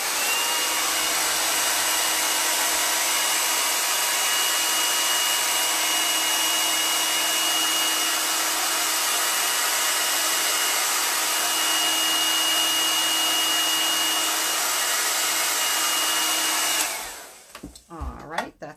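A blow dryer runs loud and steady for about seventeen seconds while drying a chalk transfer stencil, then cuts off into a few faint handling rustles.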